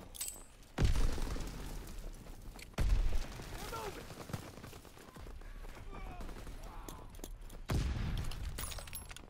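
Grenade blast and gunfire in the video game Call of Duty: three sharp, loud booms with low rumble stand out over a steady battle din, mixed with voices talking throughout.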